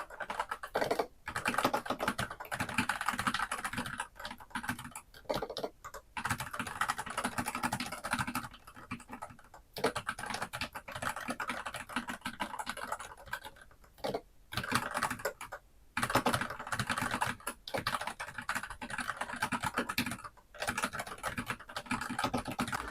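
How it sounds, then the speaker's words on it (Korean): Steady, rapid typing on a Dygma Raise 2 split ergonomic mechanical keyboard, clacky keystrokes in quick bursts with brief pauses, close and clear, no voices. "일단 이 상태로 타건을 먼저 한번 해보도록 하겠습니다."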